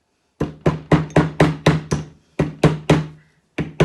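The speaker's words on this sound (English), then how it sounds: "hammer these little nails along the actual line that you've just drawn" Small nails being hammered into wood along a drawn line: a run of sharp, evenly spaced taps, close and loud, broken by two short pauses, with no talking.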